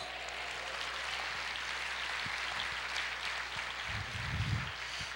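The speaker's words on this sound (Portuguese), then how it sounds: "aplauda o Senhor" Church congregation applauding during a Portuguese-language sermon, a steady, moderately distant patter of clapping with a slightly louder burst near the end.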